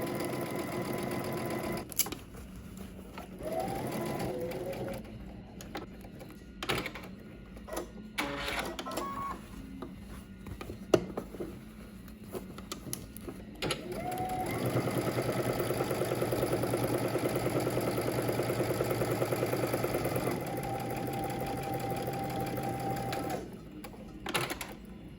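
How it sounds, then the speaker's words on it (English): A sewing machine stitches a seam at five-eighths-inch allowance, whirring in several runs with pauses and handling clicks between, then a long steady stretch near the end. "we're going to stitch using 5/8 of an inch seam allowance"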